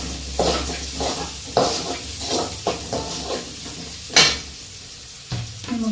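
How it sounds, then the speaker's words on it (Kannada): Onions and green chillies frying in hot oil, a steady sizzle and hiss with repeated scraping stirs of a spoon against the pan, close and fairly loud, with no one talking. "ಈರುಳ್ಳಿ ಮತ್ತು ಹಸಿಮೆಣ್ಸಿನ್ಕಾಯಿ ಚೆನ್ನಾಗಿ ಫ್ರೈ ಆಗಲಿ"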